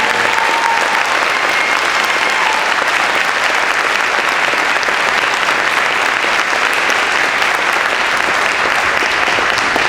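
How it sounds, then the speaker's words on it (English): A crowd at a college cording ceremony applauds a graduate already sworn into the Marines, a loud, dense, unbroken wash of clapping lasting the full ten seconds with no voices. "So let's give him a round of applause."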